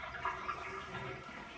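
Water runs steadily from a tap in a vacation rental room, a faint continuous splashing rush with no talking.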